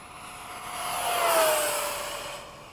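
Model F-15 and F-16 jets with afterburner LEDs flying in formation, a faint whooshing turbine whine that swells as they pass overhead and then fades.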